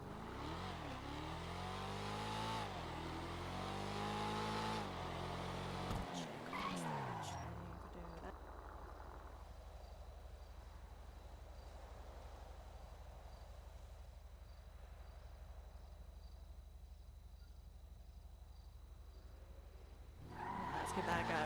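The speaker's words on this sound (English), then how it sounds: "It's this car. It's ridiculously loud." A ridiculously loud car driven in a video game roleplay, its engine droning steadily with a low rumble and occasional skidding tire squeals, while people talk over it at the start.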